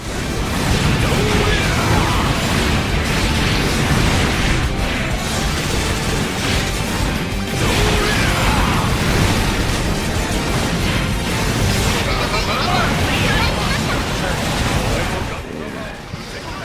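Explosions and crashing blasts from missile launchers in the Gundam Breaker video game, a dense, loud, continuous barrage of impacts with a voice talking over it throughout.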